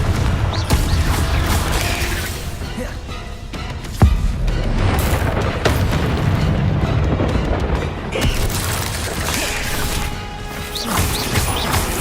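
Confringo blasting spell explosions during a Hogwarts Legacy video game duel, loud smashing crashes and booms in quick succession over a continuous noisy battle backdrop, with one sharp hit standing out.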